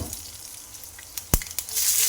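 Sautéing in a pan with a spoon: a faint background sizzle broken by a few sharp metallic clinks of the spoon, then a louder hiss swelling at the end, close by with no talk.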